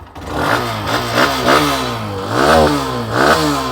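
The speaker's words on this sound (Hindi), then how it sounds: "आइडियल कंडीशन पर इंजन साउंड, एग्जॉस्ट नोट" A motorcycle engine running close by, its exhaust note rising and falling with a few light revs over a steady idle.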